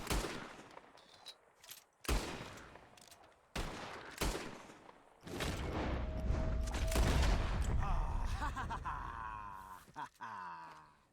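Gunfire at flying birds in Red Dead Redemption 2: a few sharp separate shots early on, then a sustained loud burst of rapid fire with rumble, fading into softer crackles and faint groans near the end.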